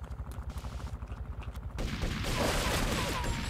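Player gunfire in Grand Theft Auto 3: rapid, regular shots in a quick rhythm, then a denser, louder burst of fire continuing to the end, close and dominant.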